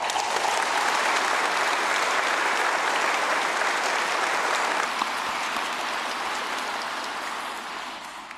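An audience at a national manufacturing renaissance vision ceremony gives sustained, dense applause, a loud even wash of many hands clapping that holds steady and then gradually tapers off near the end.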